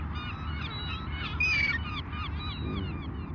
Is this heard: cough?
no